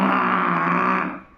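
A voice imitates a buffalo with a single rough, throaty bellow held for just over a second before fading.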